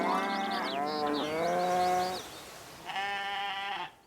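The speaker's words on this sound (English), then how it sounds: "the Nature Car Horn, which sounds a bit like this." A car horn sounding like farm animals from the Forza Horizon 5 racing game, giving wavering sheep- or goat-like bleats, one long sustained call and then a shorter one, loud and close with no talking.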